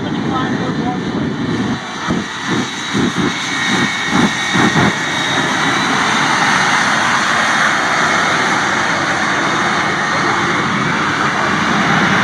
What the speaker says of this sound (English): 75-foot long plane.